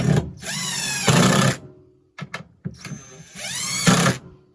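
A power drill drives screws to snug up deck boards on a pallet cabin deck, two loud sustained whirring bursts with rising pitch separated by brief quiet and a few short knocks.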